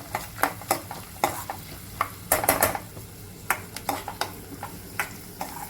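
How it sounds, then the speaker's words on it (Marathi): Roasted peanuts are stirred in a pan over medium gas, with a steady run of scraping and clinking strokes against the metal and a light sizzle underneath, close up and with no talking. "भाजलेले शेंगदाणे घेते 2 चमचे, ते आपण छान भाजून घेऊ। 1 मिनिट तरी परतून घ्यायचं ह्याला।"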